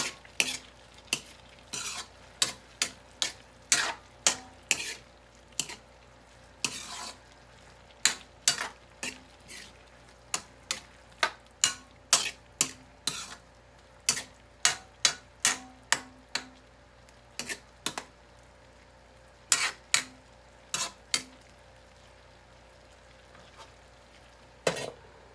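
Ground meat being stir-fried with bottle gourd and tomato in a pan: a utensil scrapes and clacks against the pan in repeated sharp strokes over a faint, steady sizzle, with no talking.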